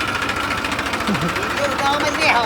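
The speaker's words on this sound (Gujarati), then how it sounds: "આવી ગયું ટ્રેક્ટર" A steady, rumbling tractor engine idles close by, with a low continuous chug throughout and a voice speaking briefly over it.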